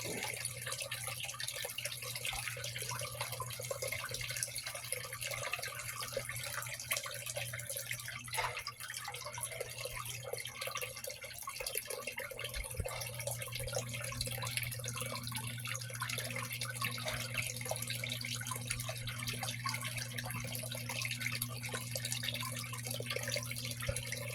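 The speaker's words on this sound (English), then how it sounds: "I think I'm going to increase the water a little bit." Water rushing steadily through a gold prospecting sluice set in a stream, a constant close hiss with no pauses and no voices across the whole stretch.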